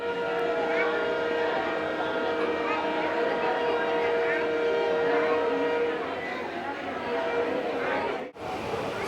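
A Palakkad Town–Tiruchi Express pulls away from the platform with a steady, loud mechanical rumble and droning tonal hum, the engine noise holding evenly before dipping briefly near the end.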